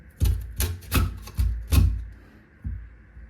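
Leftover potato being sliced on an IKEA IDEALISK grater, about six crisp rhythmic strokes, close and distinct, each a short scraping thud with brief pauses between.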